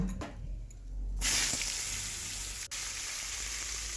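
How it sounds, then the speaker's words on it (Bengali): Ridge gourd and drumstick stalks hit hot oil with a sudden burst of steady, hissing sizzle that carries on evenly, fairly close, after a quiet start. "এই তেলের মধ্যে ঝিঙে সজনে ডাঁটাটা ভেজে নেব"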